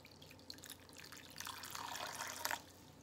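One and a half cups of water poured into a bowl, a faint trickle building to a brief splashing gush near the end, no speech.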